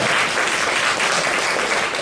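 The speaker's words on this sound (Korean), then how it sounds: "우리 환영의 박수를 부탁드리겠습니다" A church congregation applauds to welcome guests during a Sunday worship service, a dense, steady wash of many hands clapping close by with no pauses.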